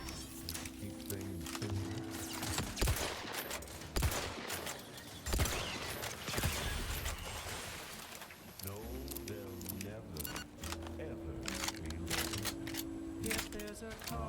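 Gunfire in the Outer Worlds 2 video game sounds as repeated sharp shots and bursts over game music, with talk heard throughout.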